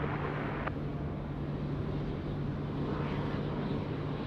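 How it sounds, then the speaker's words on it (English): An Airbus A380 touches down on runway 34 left at Sydney Airport at night, heard as a broad, continuous jet roar with a steady low hum, fairly distant and even throughout. "the 380 about to touch down 34 left"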